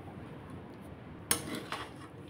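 A metal spatula clanks sharply against a pan as fried eggs are added to chicken fried rice, with two distinct scraping knocks over a quiet kitchen background.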